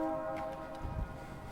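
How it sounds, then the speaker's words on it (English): A train nearing in Clifton, Arizona, its horn sounding as a faint sustained tone in the distance, followed by a low rumble, with no talk. "Oh, here comes a train."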